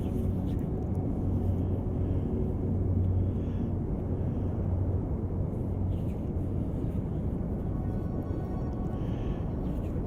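Engine of an EV-55 airplane in the X-Plane 11 flight simulator, a steady, loud, low droning rumble that continues without a break for the whole stretch.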